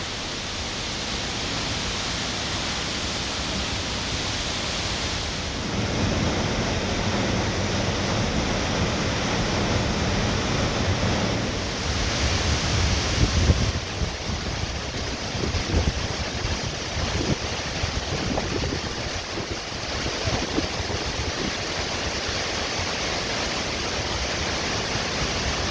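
A waterfall pours heavy water over rocks, producing a loud, constant broadband roar that stays steady throughout, close by and without voices.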